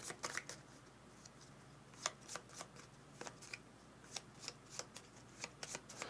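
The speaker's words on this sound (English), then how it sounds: "so we'll shuffle up the markets" Board game cards from The Colonists are shuffled in a quiet room, a run of crisp riffling bursts and flicks that come in irregular clusters, close and fairly soft.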